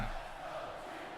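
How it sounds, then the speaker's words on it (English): A stadium crowd cheering in the American football video game Madden 08 during a Pro Bowl game, a faint, steady roar of many voices held in the background. "The crowd cheering for the NFC because we're technically the home side."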